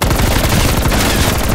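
Rapid, continuous automatic gunfire in a zombie video game runs loud and dense for the full second and a half, with no talk.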